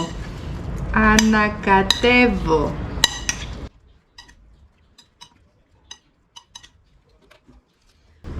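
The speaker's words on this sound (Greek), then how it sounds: "Ανακατεύω" A Greek salad being stirred in a bowl with a spoon: soft, scattered clinks and taps against the bowl that follow a few seconds of talk.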